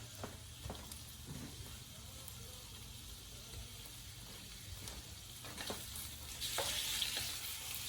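Raw chicken for a dog's raw diet sears in a hot pan, giving a quiet continuous sizzle that swells into a brighter hiss toward the end, with occasional soft clicks.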